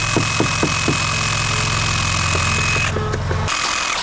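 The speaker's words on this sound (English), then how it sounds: "Dave got the Sawzall out to vibrate, but it seems to be doing pretty good" A reciprocating saw vibrates concrete forms for stamped steps: a loud, steady mechanical drone with rapid rhythmic rattling and a few sharp knocks, cutting out abruptly near the end.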